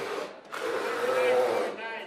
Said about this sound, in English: You got to line up with that drill. That nasty noise.